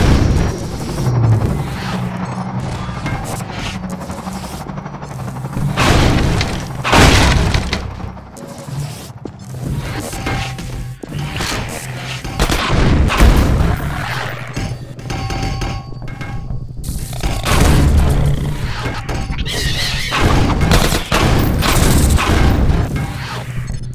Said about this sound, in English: It's a gunshot.